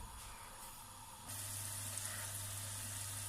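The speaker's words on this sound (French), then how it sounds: "on commence à mélanger jusqu'à quand on fait suer les oignons" Onions sweat in a pan with a faint, steady sizzle and hiss that grows slightly louder partway through, heard close up with no talking.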